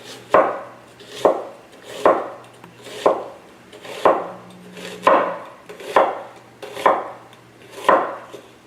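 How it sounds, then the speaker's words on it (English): A knife slices through onions on a cutting board while elk is being prepared, giving nine evenly spaced, crisp chopping strokes about a second apart, close and clear with no talking. "I'll slice my onions up"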